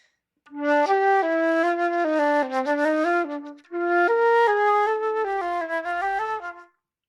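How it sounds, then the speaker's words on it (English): A solo flute plays two connected melodic phrases, descending and swelling in volume into its lower register, clear and close. "What I was trying to do there was crescendo into the lower register."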